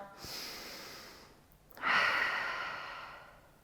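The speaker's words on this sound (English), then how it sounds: "Big inhale" A deep, slow breath during a relaxing bedtime yoga flow: a soft airy inhale followed by a fuller, louder breath that swells and gradually fades, close and alone with no talking.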